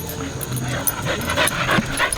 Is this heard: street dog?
yes